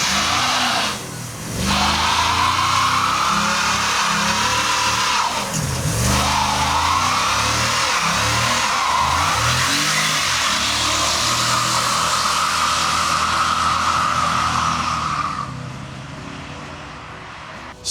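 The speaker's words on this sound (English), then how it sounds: "Will our R-Class minivan now do a burnout?" A V8-swapped, two-wheel-drive Mercedes R350 minivan doing a smoky burnout on the road: loud sustained engine revving and roaring tire spin for about fifteen seconds, with two brief dips, then the noise fades away.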